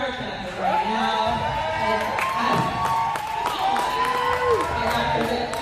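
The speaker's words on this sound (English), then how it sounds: "Start clapping right now." An audience claps for an award recipient at a community event, steady applause with crowd cheering under a prominent voice, sustained throughout at moderate loudness.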